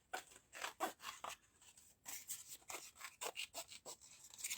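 Small scissors snip around a stamped paper image, close up, in a quick run of short crisp cuts with brief pauses between them and no talk.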